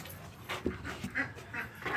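A dog pants in quick, uneven breaths nearby, with a busy outdoor background of other animal noise.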